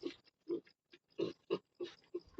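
Piglets grunt in short, close, evenly spaced bursts while feeding, each snort brief and low, with quiet gaps between them.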